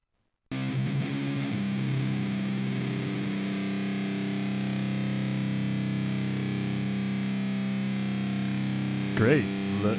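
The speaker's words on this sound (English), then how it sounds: "There is a chunk of distortion in there" Distorted sampled loop playing back steadily on an Elektron Digitakt, a dense gritty sustained tone with a buzzing harmonic texture, starting abruptly after a short silence and ending with a brief squelchy warble.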